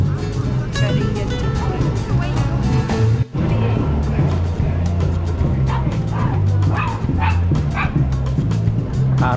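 A dog at an outdoor food festival gives repeated yips and barks, close and fairly loud, over a busy crowd hum with people talking throughout.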